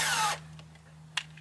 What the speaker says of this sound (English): We're going to put this drill in here. This is the Harbor Freight titanium nitride